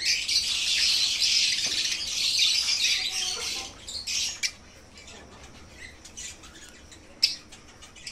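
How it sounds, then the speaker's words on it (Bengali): A flock of young adult lovebirds, about 9-10 months old, squawks and chatters continuously for several seconds, then thins to scattered calls and one sharp squawk near the end. "আপনারা দেখতেই পাচ্ছেন এখানে বেশ কিছু পাখি কিন্তু রয়েছে"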